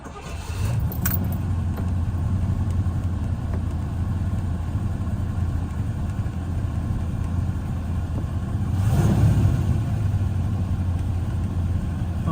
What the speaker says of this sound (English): quick video of start up and idling on this p5b coupe